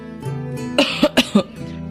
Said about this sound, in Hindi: वो बूढ़ा खांसते हुए कहता है